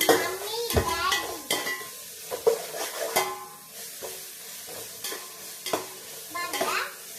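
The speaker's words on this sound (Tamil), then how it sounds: "வாங்க கொஞ்சம் ஃபுல்லா வதக்கிடலாம்." Chicken is sautéed for biryani in a home kitchen, with a metal spoon clanking and scraping against the pan in irregular strokes over a low sizzle, a few ringing taps standing out.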